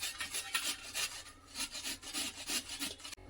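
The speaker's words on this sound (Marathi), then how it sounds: "एक एक करून आपल्याला आवळा किसून घ्यायचा आहे" Indian gooseberry (amla) is grated by hand, a quick series of close rasping scrapes about twice a second, each stroke a short gritty rub, with no voices.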